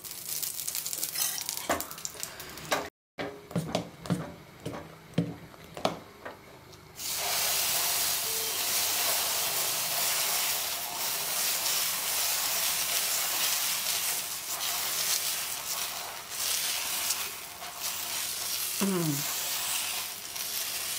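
Dosa batter sizzles and hisses on a hot cast iron pan, starting with a few sharp taps and clatters before a loud, steady frying hiss takes over for most of the stretch.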